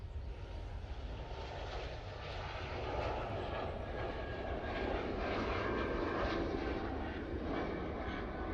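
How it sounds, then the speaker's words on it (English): An Air France Airbus A220 rolls down the runway for takeoff at Manchester Airport, a steady jet engine roar heard from a distance that swells gradually as it accelerates. "Air France A220 now on the roll, going back to Paris Charles de Gaulle Airport."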